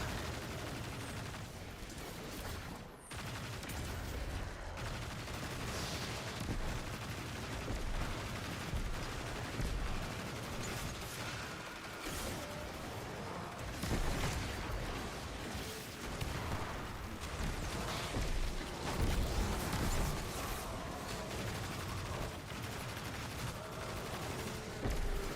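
Rufus' Fury, a bespoke auto rifle from Root of Nightmares, firing in Destiny 2 during a Grandmaster Nightfall, with dense continuous bursts of loud gunfire and game combat effects running throughout.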